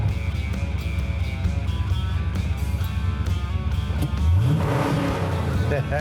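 A classic car's engine, with a three-speed column shift, idles with a deep, steady rumble, then revs up sharply near the end, loud and close.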